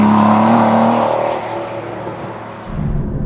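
A 2011 Aston Martin V12 Vantage with a manual gearbox roars loudly under acceleration, its deep tone steady then easing off briefly before surging again near the end.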